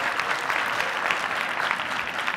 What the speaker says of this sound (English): Big round of applause again for our panelists